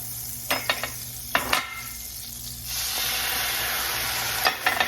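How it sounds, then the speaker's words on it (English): Butter dropped into a hot pan with spices for an apple spice vanilla cake: a few clattering knocks, then a loud, steady close sizzle swells and holds, with no talk. "Let's get this butter in there now."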